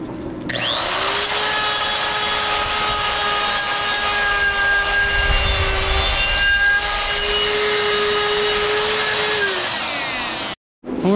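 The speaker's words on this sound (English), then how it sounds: "Now I'm gonna take this grinder." A power grinder smoothing a metal hole on a Jeep ZJ intercooler whines at a steady high pitch, running continuously for about ten seconds before cutting off abruptly.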